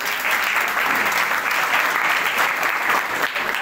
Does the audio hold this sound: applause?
yes